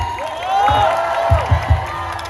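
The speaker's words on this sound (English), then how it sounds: "Another big round of applause for him." An audience at a college skit night cheering, whooping and clapping, a loud steady crowd roar with a few louder thumping peaks near the end.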